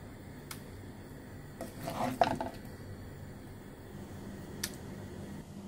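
A serving spoon scrapes and clinks faintly against a cooking pot while brain masala (maghaz masala) is dished out, a brief cluster of rubbing and metallic taps over quiet kitchen background.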